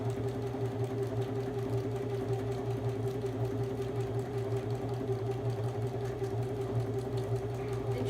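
A sewing machine stitches a sock puppet, its motor running in a steady, even drone for the whole stretch with no pauses and no voices.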